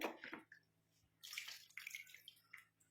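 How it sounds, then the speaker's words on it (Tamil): Water splashes and pours in short bursts close by, two main gushes with brief drips between them, fairly quiet. "தண்ணி ஊற்றி காட்டுறேன்"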